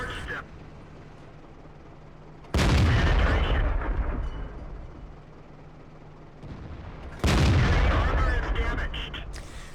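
Two heavy cannon shots from tanks in World of Tanks, a Type 62 battle on the Karelia map, each a sudden loud boom with a long rumbling tail, spaced about five seconds apart over steady engine drone.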